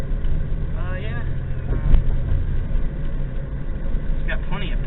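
A 1996 Pontiac Grand Prix engine drones steadily while the car drives, a constant low rumble with road and wind noise, as people talk over it inside the car.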